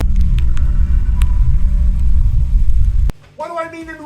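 Old rat rod car engine running rough, a loud close rumbling idle that cuts off abruptly, followed by a voice speaking.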